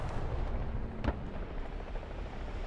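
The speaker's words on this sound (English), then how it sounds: "Wait, why is artillery being called on me?" Incoming artillery fire around a Type 16 armored vehicle in War Thunder: a low, continuous battlefield rumble with a single sharp shell impact roughly midway and faint distant thuds around it.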